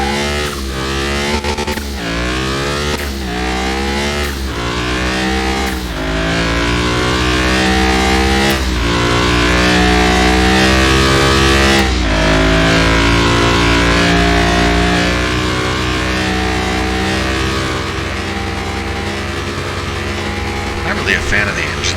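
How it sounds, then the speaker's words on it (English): A game engine from a Land Rover Discovery rebuild in Car Mechanic Simulator 2021 revs repeatedly in loud, rising bursts with a snarly tone, then holds a sustained high drone, with no one talking over it. "A fan of the engine sound in this game either. They always sound too snarly."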